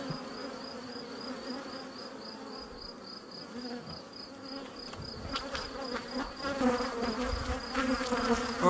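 Honey bees hum in a dense, steady drone around an open hive during queen-cell selection. The buzzing stays close and continuous and grows slightly louder toward the end.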